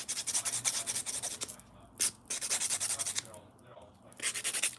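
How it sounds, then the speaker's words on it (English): Fingernails layered with rubber base coat are filed in quick rhythmic strokes, a close, bright scratchy rasp repeating in bursts with short pauses between passes. "I'm just going to give it some extra filing because I do have layers of rubber base"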